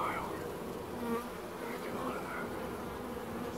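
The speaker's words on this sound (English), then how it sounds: "it's a massive swarm that's been in there quite a while." A massive, long-established honey bee swarm drones steadily inside an old chest of drawers with the drawers removed, a dense continuous buzz heard up close without talk.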